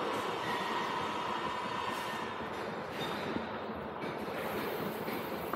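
A small electric water pump runs in a Raspberry Pi automatic watering system, giving a loud, continuous rushing hiss and drone that holds steady from start to finish with no talking.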